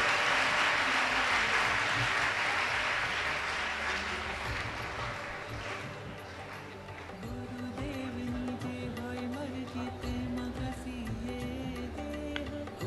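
A gathering of students at a gurukul assembly breaks into loud, sustained applause that gradually fades and thins, leaving a quieter room with scattered claps and a steady tonal hum beneath.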